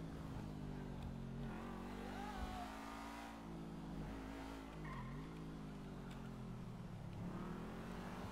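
Dewbauchee Seven-70 sports car in GTA 5 accelerating, its engine droning steadily and rising and falling in pitch through the gears, heard alone and fairly quiet.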